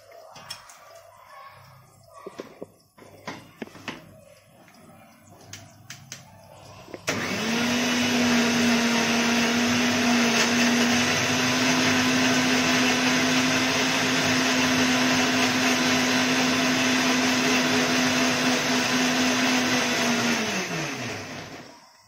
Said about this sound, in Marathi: बारीक करून घेऊया मिक्सरला।